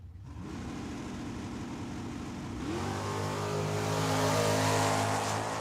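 Corvette and snowmobile drag racing at Tucson Dragway, engines droning at a distance and then rising in a loud, sustained revving roar.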